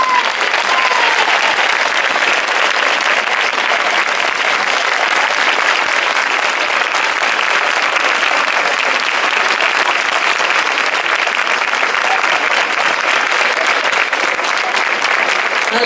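A large crowd gives loud, sustained applause at an evening fair performance in Ojén, a dense, continuous roar of clapping holding at full strength for about sixteen seconds without any speech.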